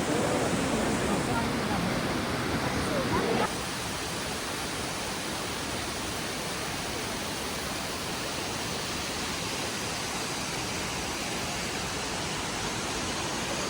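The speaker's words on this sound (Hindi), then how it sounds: "और ये है 108 वाटरफॉल" The 108 Sacred Waterfalls at Chumi Gyatse in Arunachal near the India-China border roar as a steady, dense wash of falling water, loud and unbroken throughout.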